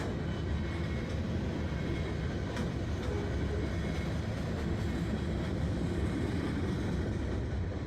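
Freight train carrying cargo from Oregon mills rolling past in a continuous heavy rumble with rail noise, close and loud, steady throughout with no voices.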